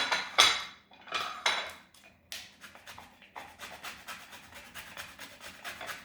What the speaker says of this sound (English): I'm getting the lemon zest out now.